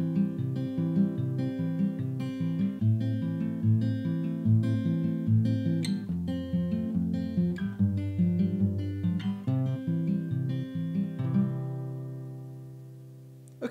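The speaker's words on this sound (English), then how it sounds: "We call this one the outside-inside pattern." Steel-string acoustic guitar fingerpicked in a folk outside-inside pattern, steady alternating bass and treble notes ringing clearly and close, played alone with no talking, the last chord fading out.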